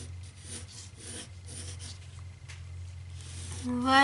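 A pencil moves lightly over paper while someone draws an anime character, soft scratchy strokes in short repeated bursts over a low background hum, ending with a brief louder scrape.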